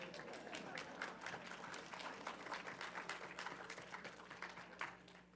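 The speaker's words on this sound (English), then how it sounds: "I applaud you all." A seated audience at a New York CreativeMornings talk applauds, a faint, steady wash of many hands clapping from across the room that continues evenly throughout.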